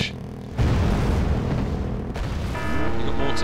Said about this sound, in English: Yes, fire mortars.